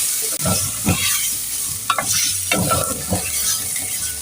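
Chicken with spices sizzles and fries in a clay pot while being stirred, with scraping strokes of a spoon coming at an irregular rhythm over a constant soft hiss.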